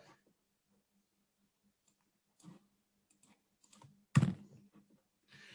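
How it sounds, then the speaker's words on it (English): Sparse clicks of keys on a computer keyboard sound in a quiet room, with a few isolated taps, a short cluster, and one louder key press near the end followed by light typing. "Please type sum and press enter."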